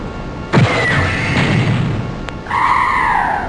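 A tank in the strategy game Terror From The Deep fires on an alien, giving a sharp synthetic blast followed by a sustained mechanical rumble and a second whining, sweeping burst, loud and close with no talk.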